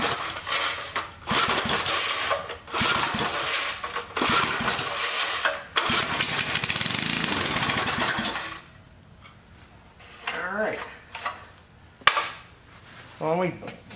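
An old cemetery lawn mower engine with stale fuel fires up, sputtering and clattering loudly in a close, rough run, then cuts out and falls quiet. A person then speaks amid a few thumps and handling noises.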